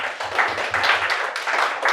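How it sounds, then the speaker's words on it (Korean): Church congregation clapping during a Sunday service, lively clustered claps from a small group, close and fairly loud, with faint voices mixed in. "박수"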